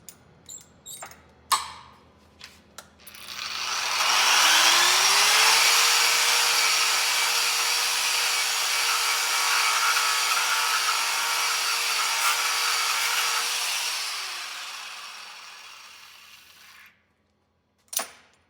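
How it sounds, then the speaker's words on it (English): An Eastwood contour sander grinds across plasma-cut aluminum in one steady, loud abrasive whir lasting about ten seconds, spinning up and winding down, with a few clicks and knocks before and after. "I'm just going to hit it with this Eastwood contour sander"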